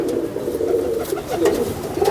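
Breeding pigeons kept in a cage coo in soft, repeated throaty calls that overlap and swell, close by over a faint background hum.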